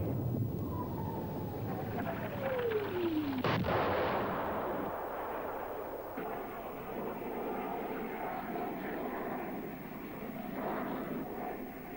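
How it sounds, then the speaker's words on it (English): Saab AJ-37 Viggen attack jet with an afterburning turbofan, a falling engine whine followed by a sharp loud crack and then a sustained distant roar, in old military aviation footage. "Powered by a huge afterburning turbofan, the AJ-37 attack Viggen is the first and most numerous of a variety of versions"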